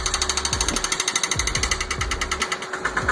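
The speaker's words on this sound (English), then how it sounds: "Watching a Bobcat S150 armed with a jackhammer attack a stubborn stump feels like witnessing a beast go into battle mode." A Bobcat S150 fitted with a jackhammer pounds a stubborn tree stump in a fast, steady run of loud, close, rhythmic impacts.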